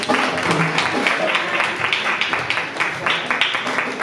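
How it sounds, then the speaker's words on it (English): A church congregation claps during worship at a prayer breakfast: a dense, steady wash of many hands clapping in a loose rhythm for several seconds, fairly loud and close. "They can still clap."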